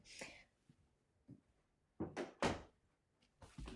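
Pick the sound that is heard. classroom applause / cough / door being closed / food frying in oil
door being closed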